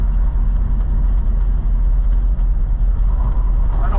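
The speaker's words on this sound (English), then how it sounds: "The engine's warmed up, but it's acting like it's not." Early Ford car engine warmed up but still running as if cold, giving a steady, close, loud low-pitched rumble with no talk over it.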